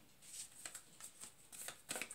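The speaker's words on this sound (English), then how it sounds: "I'm going to shuffle around again." Tarot cards shuffled by hand in soft, quick riffling bursts, about half a dozen light flutters in a row, close and quiet with no talking.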